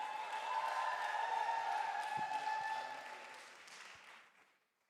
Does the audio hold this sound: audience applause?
yes